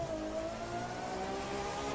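A LaFerrari engine roars at sustained high revs while racing toward the finish line in The Crew 2, a steady, loud whine with layered harmonic drone and no pauses.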